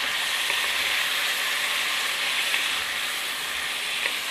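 Paneer fries in a hot pan with a loud, continuous sizzle, a dense, even hiss with occasional faint pops, close and steady throughout.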